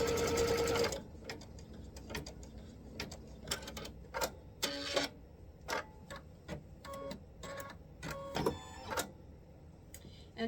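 A sewing machine stitches quilt block pieces together, starting with a loud run and then continuing in short irregular bursts of rapid clattering needle strokes, close and clear with no talking.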